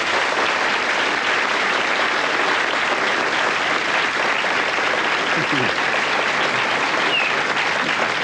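A large crowd applauds loudly and steadily for several seconds, dense clapping with faint cheers, no break in the sound.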